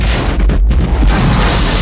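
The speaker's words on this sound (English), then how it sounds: "And then there is a huge explosion" A huge building explosion from the 1988 film Die Hard, lit by flash bulbs and thick with smoke, booms loud and close as one sustained roar filling the whole moment, with no voices.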